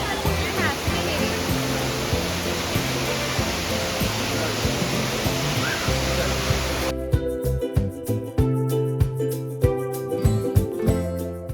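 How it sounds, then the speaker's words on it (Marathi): Gavli Dev waterfall near Mumbai roars as a loud, continuous broadband rush, then gives way to a clattering, rhythmic passage with sharp repeated hits; a voice is present partway. "तर हा आहे माझ्या पाठी गवळीदेव वॉटरफॉल"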